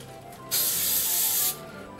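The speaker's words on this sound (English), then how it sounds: "spray it with cooking spray" A single steady hiss of aerosol cooking spray into a bowl lasting about a second, close and alone, with quiet room tone before and after.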